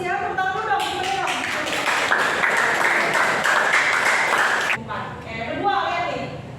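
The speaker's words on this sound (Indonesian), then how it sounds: "Tepuk tangan dong semuanya." Applause from a classroom audience: a burst of many hands clapping that lasts about four seconds and then stops abruptly, with a voice speaking before and after.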